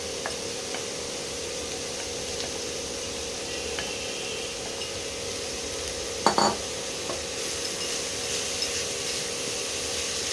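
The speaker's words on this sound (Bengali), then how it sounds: "ঘিতে এটাকে একটু ভালো করে ভেজে নিতে হবে" Grated pumpkin frying in ghee in a pan, a steady soft sizzle with occasional scraping stirs and one louder clatter midway.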